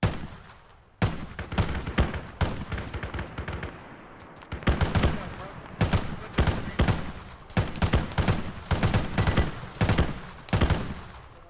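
Rapid bursts of gunfire from Operation Broken Stone, a military shooter, crackling loud and close in repeated volleys, with short pauses between bursts across the whole stretch.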